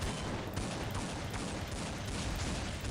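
Dense, continuous gunfire in Counter-Strike 1.6 on a jailbreak server, a harsh, unbroken crackle of overlapping shots sustained at steady loudness throughout.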